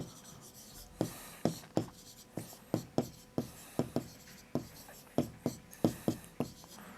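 A teacher chalks an algebra equation on a classroom board: crisp, evenly spaced taps and short strokes repeat throughout, close up with a faint room hiss and no voices.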